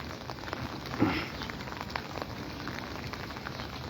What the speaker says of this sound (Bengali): দেখো বৃষ্টি কীভাবে পড়ছে